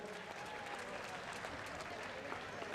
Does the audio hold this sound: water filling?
no